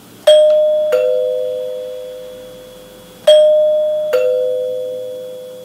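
Two full ding-dong cycles from a 1938 NuTone Model B two-note door chime, each a bright high note then a lower second tone, ringing and decaying between strikes; close, clean and without any speech.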